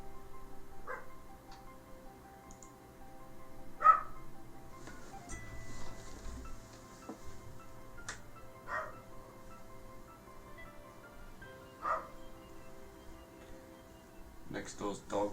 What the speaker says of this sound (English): next door's dog is barking like crazy